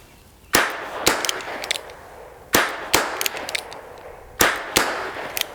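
Ruger Wrangler revolver fired at a target on a range, three sharp loud reports each followed by a quick echoing second crack, spaced irregularly over about five seconds.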